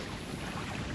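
Strong side wind gusts across an open shoreline on Cyprus during bass fishing, a brief, fairly faint rushing roar with buffeting on the microphone and no voices.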